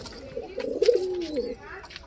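Giribaz pigeons of an old bloodline coo in a low, rolling murmur that swells through the middle of the moment, with faint background noise and no clear speech.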